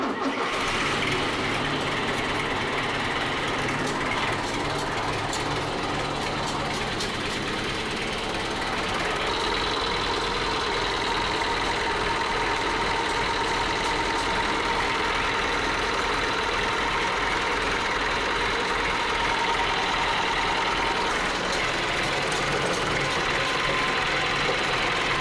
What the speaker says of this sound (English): Let's start her up and see whether it leaks.